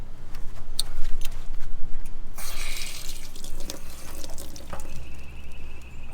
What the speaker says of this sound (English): I'm going to open up the PTF valve, because what I need to do is relieve the pressure